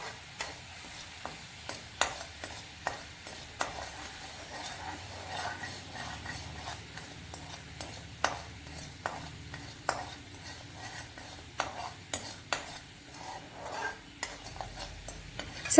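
Sugar and a pinch of salt stirred in a pan for caramel makhana, repeated light scraping clicks of a spoon at an irregular steady pace over a faint sizzle, quiet and close.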